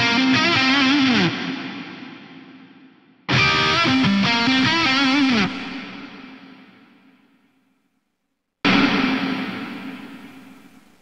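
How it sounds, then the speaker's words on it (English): Guitar chords through an Axe-FX reverb with dynamic distortion and delay ring out in three loud, gritty bursts. Each one cuts off into a long, swelling wash of echoing tail that slowly fades toward silence. "It's to do dynamic distortion for crust up front and then the delay for crust down back."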